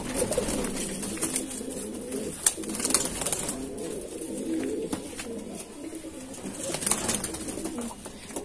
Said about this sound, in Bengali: পাঠা পায়রা, এটা নর পায়রা